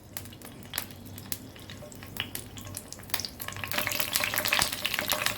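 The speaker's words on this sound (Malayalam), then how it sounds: "വെളിച്ചെണ്ണയിലേക്ക് കുറച്ച് കറിവേപ്പില ഇട്ട് കൊടുക്കാം." Curry leaves dropped into hot coconut oil before frying fish, Kerala style: crackling pops at first, building into a dense, louder sizzle near the end.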